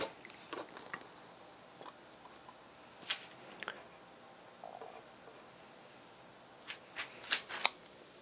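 Knife cutting open a soft, rubbery Black Madeira breba fig, a quiet series of faint squishy snips and small wet clicks scattered irregularly, close up in a hushed room.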